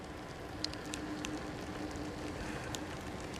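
Steady, fairly faint rain patters and hisses outdoors on wet roads during a ride on a Gotway Nikola Plus 100V electric unicycle, with a soft continuous wash and scattered drop ticks and no voices.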